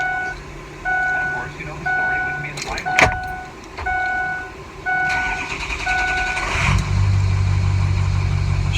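A diesel truck engine cranks with repeated whining starter pulses, then catches and settles into a steady, close, low idle rumble.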